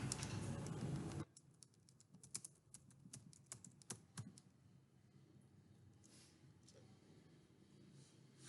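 Computer keyboard typing during a website editing lesson, a burst of rapid irregular key clicks after a brief noisy start, fairly quiet with light background hiss and no clear talk.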